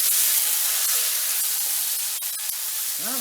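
Tomatoes dropped into a hot pan with garlic, a dense broadband sizzle and hiss that stays loud and even throughout, with faint clinks of stirring near the end.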